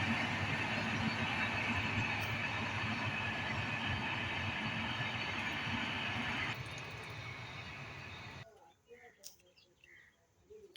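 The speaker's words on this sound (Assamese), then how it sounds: "এইফালে ট্ৰেইন এখন গৈছে।" A train passes in the distance on a rainy day in rural Assam, a steady broad rumble of rail wagons with birds chirping over it, fading out after several seconds.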